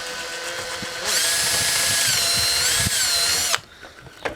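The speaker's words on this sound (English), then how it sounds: "exactly the same procedure as drilling the smaller holes" A power drill whines steadily at high pitch as it bores into bamboo, starting abruptly, running about two and a half seconds, then cutting off.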